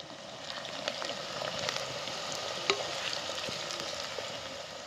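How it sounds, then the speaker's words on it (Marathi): Onion fries in oil for sukka mutton, a continuous close sizzle with fine crackles and occasional sharper pops, with no voices over it. "कांदा लाल तळत तळत आला की मीठ टाकून घ्यायचं त्याच्यात"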